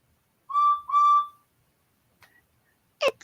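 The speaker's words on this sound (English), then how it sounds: "And how does Edward's whistle sound?" Edward the engine from Thomas & Friends sounds his train whistle as two short, clear, fairly loud toots in a row, followed by faint clicks and a sharp knock in otherwise near silence.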